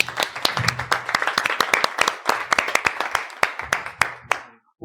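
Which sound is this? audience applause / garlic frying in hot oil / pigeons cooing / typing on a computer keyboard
audience applause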